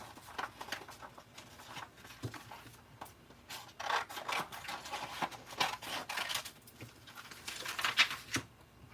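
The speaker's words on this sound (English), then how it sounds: "I'm just going to kind of cut my piece of vellum to size" Thick vellum paper is cut to size with repeated rasping, scraping strokes up close, irregular in rhythm and moderately faint, with no talking.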